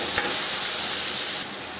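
Onions and tomatoes frying in hot oil for pav bhaji, a loud close steady hiss and sizzle with a brief spike early on, no one speaking.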